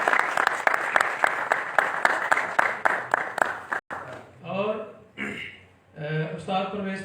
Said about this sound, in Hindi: हारून साहब को ये तालियां देर तक जा रही।